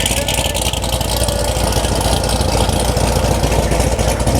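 A twin-turbo Nissan 300ZX idles with catless downpipes fitted, a loud, steady, close rumble that holds evenly throughout with no revving.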